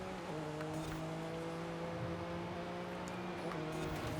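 A Porsche with Forza aero in the Forza Horizon 5 video game drives along with a quiet, steady tonal engine drone, a single continuous note held throughout.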